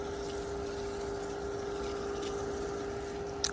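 The bubbler of a garden water system in a tropical yard in Mesa, Arizona, running with a constant, even gush of pumped water, close and unbroken, with no talk.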